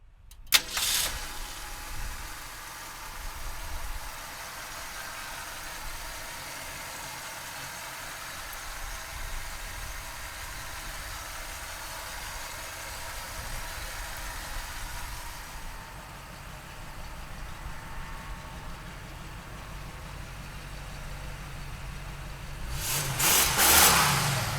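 1966 Ford Mustang convertible engine cranking and catching, then idling with a steady rumble for a long stretch before a loud rev near the end, heard close and alone.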